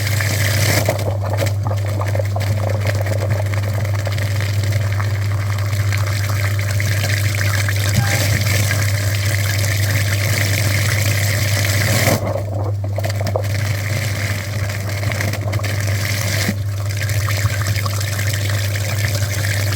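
Water flowing and trickling steadily through the heater core radiator of a Skoda Superb or VW Bora during a flush, a continuous wet rush over a constant low machine hum, with two brief dips partway through.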